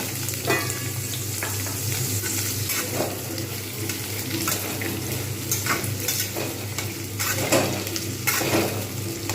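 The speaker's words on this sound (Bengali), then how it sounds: "এবার আমি এতে দিয়ে দেবো আলুগুলো কিন্তু আমি ভালোভাবে ভেজে নেব" Onions and potatoes fry in a pan, giving a continuous close sizzle with occasional scraping stirs and a low steady hum underneath, no voices.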